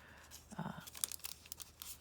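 Brief, soft crinkling of a thin plastic bag handled up close, a few quiet rustles over about two seconds.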